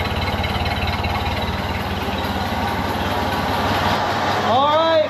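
A 1931 Ford Model A engine idles smoothly and steadily close by, a continuous low running rumble, with a voice speaking over it.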